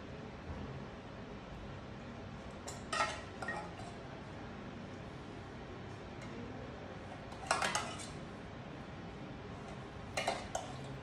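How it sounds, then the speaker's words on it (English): A spoon ladles sauce over Asian-style grilled fish on a dish, with three separate bursts of bright clinking against the plate spaced through a quiet, hissy room. "we are going to spoon this beautiful sauce over the fish"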